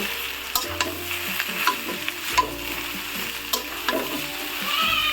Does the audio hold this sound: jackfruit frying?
yes